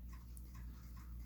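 A dog whimpers softly in short, high whines, faint and close, over a low steady hum.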